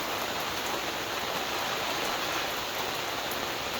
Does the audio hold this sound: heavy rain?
yes